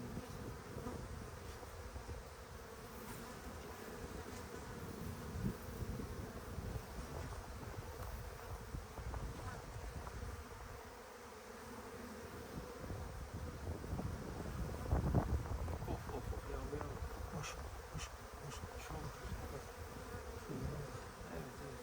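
A dense, continuous buzzing of many honeybees swarming close around an open hive, with gusts of wind rumbling across the microphone now and then.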